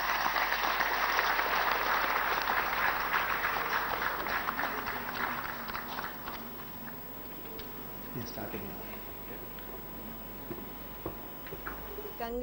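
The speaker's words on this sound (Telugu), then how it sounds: "సోమనాథ్ గారు మాట్లాడినంతసేపు మా స్టూడియోలో మొత్తం చప్పట్లతో మారిమోగాయి" Studio audience applauds ISRO chairman Somanath's speech on the Aditya L1 mission, a loud sustained round of clapping that thins and fades over several seconds, leaving scattered faint claps and room noise.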